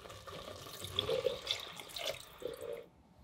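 Broth or water is poured in portions into a pot of cabbage soup with sausage, a soft trickling splash with small drips, fairly quiet and fading to silence at the end.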